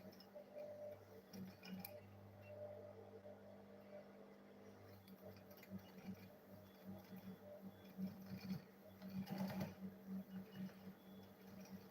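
A sewing machine stitching the side seam of a handmade school bag, a faint steady mechanical whir with soft rhythmic ticking that swells slightly louder toward the end, quiet and close with no voices.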